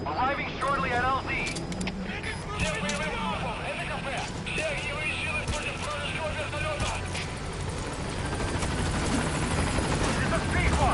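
Support helicopter in Metal Gear Solid V arriving at a landing zone, a steady rotor drone running continuously under game voices and radio chatter.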